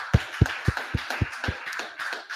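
A handful of people clap in a steady rhythm, six strong claps about a quarter second apart, then trailing into softer, looser clapping.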